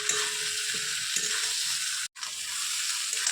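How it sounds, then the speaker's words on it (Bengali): Jackfruit and potatoes fry in a pan with prawns nearby, giving a loud steady sizzle with light stirring scrapes, close up, broken by one brief cut to silence before the hiss resumes. "দিয়ে একটু নাড়াচাড়া করে দেবো"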